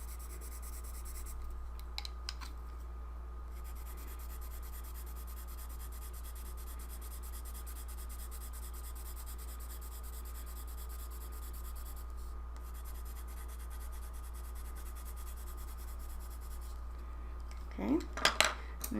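Derwent Inktense pencil rubbing across sanded drawing paper, a faint, steady dry scratching that runs throughout, with a brief louder scrape near the end.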